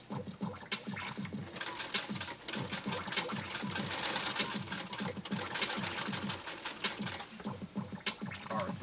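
A Singer 192K Spartan sewing machine with a size 90 needle stitches cotton using embroidery thread, a fast, steady, loud mechanical clatter running continuously and close up with no talking.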